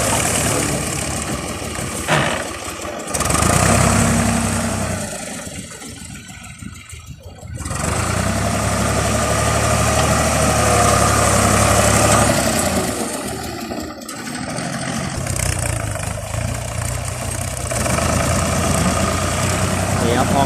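Ford 6600 tractor with manual gearbox idling and revving as it pushes up a paddy field bund, a continuous loud engine drone with brief dips, under someone talking.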